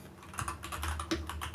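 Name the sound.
typing on a computer keyboard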